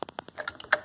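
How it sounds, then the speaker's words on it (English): A smart home switch clicks in a quick run of light, sharp ticks, close and fairly quiet, with no talking. "and by clicking my switch"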